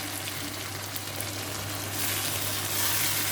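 Okra and onion fry gently over low heat in a pan, a steady close sizzle and crackle that grows slightly louder toward the end, with no voices.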